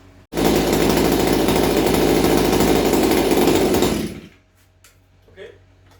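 Stihl MS461 chainsaw, warmed up, roars loud and close at a steady high idle for about four seconds, then cuts off, leaving faint clinks and rustling.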